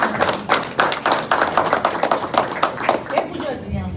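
An audience claps at an event in a school computer room, bursts of hand claps coming in uneven waves with voices mixed in underneath.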